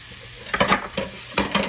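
Butter sizzles in a hot pan for a Cajun creamy shrimp penne, with a soft steady hiss broken by a few short bursts of stirring and scraping, close up and with no speech.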